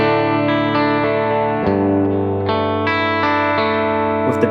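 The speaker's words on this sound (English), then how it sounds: "my first one is pretty big BFR reverb" Electric guitar played through a Walrus Audio big BFR reverb pedal with the highs rolled down for a dark tone, sustained chords ringing in a thick wash with new strums entering every second or so.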